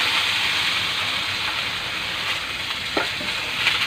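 Chicken pieces stir-fry with broccoli and button mushrooms in a pan, giving a loud, steady hiss of sizzling oil with occasional soft scrapes of stirring.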